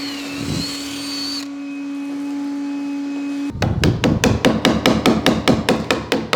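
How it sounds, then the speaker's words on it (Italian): A chisel is struck to widen a groove in wooden furniture, about a dozen sharp, evenly paced taps following a long steady electric hum, close and loud. "Mi aiuto con uno scalpello per allargare la parte interna"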